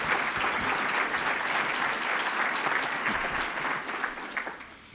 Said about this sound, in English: Again, I think these folks deserve a round of applause.